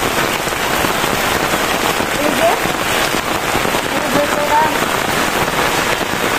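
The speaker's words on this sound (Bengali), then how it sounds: "আর বৃষ্টি যে নামছে" Rain falls steadily on surfaces outdoors in a vegetable garden, a dense continuous hiss and patter, close and fairly loud.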